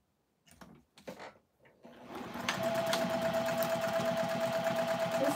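A sewing machine runs steadily at speed, stitching a top on with a regular seam allowance; a few short starts and stops lead into a sustained, loud mechanical whir with a rapid even rhythm.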